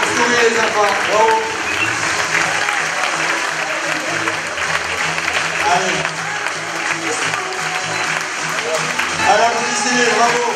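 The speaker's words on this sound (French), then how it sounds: "Allez, applaudissez-les, bravo." Sustained crowd applause for children at a local event, steady dense clapping continuing throughout, with voices and talk audible beneath it.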